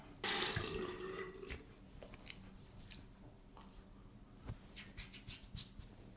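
Tap water runs into a bathroom sink for rinsing the face after shaving, starting abruptly loud and then settling into a steady splash with faint handling and dabbing sounds.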